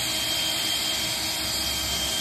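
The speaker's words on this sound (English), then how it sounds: "end cut milling bit, what this does, it basically is designed to cut a perfectly flat disc. So I'm just going to go in now." A drill fitted with an end cut milling bit grinds into a mortice lock, producing a continuous, loud, close whine with no talk and no breaks.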